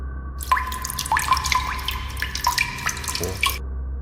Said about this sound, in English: A faint dripping sound echoed from somewhere deep in the store.